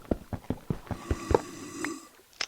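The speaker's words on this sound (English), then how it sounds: "I don't like hearing random breathing in my ear." Raspy breathing plays in a Minecraft SCP game, a run of rhythmic wheezy snore-like breaths that is close and fairly loud, then gives way to a lingering tone, with no speech over it.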